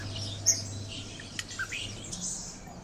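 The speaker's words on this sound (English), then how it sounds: "it's spring, the birds are chirping" Birdsong in an indie game's spring morning scene: a few short, high chirps and tweets scattered over a quiet ambient bed, light and fairly distant.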